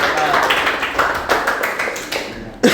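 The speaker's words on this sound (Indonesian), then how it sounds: "Tepuk tangan dulu." A class of students applauds after a presentation, a brief patter of many hands clapping at moderate loudness with some murmuring voices underneath.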